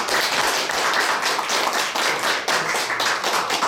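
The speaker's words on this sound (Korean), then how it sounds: "큰 박수로" An audience applauds at a lecture, steady dense clapping held for several seconds with no talk over it.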